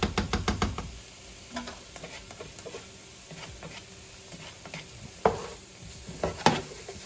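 Garlic and onion sauteing in a pan while cooking a crock pot cheesy spinach farfalle, with a few loud knocks and clatters of a utensil at the start, then a soft sizzle broken by scattered scrapes and taps.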